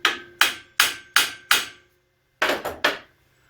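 Hammer taps on a metal engine stand in a workshop, five sharp evenly spaced knocks followed by a quicker burst of three, close and fairly loud with no talking.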